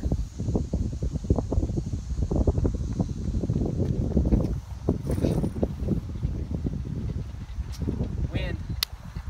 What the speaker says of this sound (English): Wind. It's always the wind.